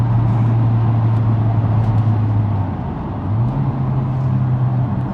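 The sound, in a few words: Toyota Celica GT-Four turbo engine accelerating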